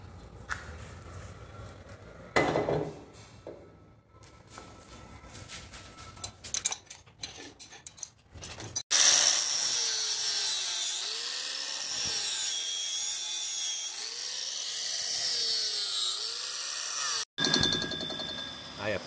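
Cutting tool on a resurfacing machine planing a VW AP engine cylinder head, eating through weld material; after a quieter start with scattered tool noises, a steady loud grinding, scraping whir runs on with rhythmic sweeping undulations and a brief cut near the end.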